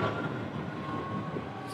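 A moving train rumbles steadily through an open window in London, a continuous broadband roar with a faint steady whine, fairly close and unbroken throughout, no talk over it.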